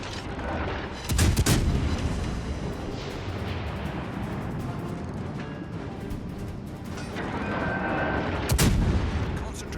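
Naval gunfire from a British tier 6 light cruiser in World of Warships: Legends, with heavy booming salvos standing out over a constant loud rumble of battle and engine noise, two sharp bursts clearly audible.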